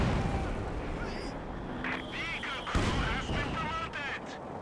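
Anti-tank gun firing during a Company of Heroes 2 battle, with sharp booming shots amid busy battlefield noise and someone commentating over it.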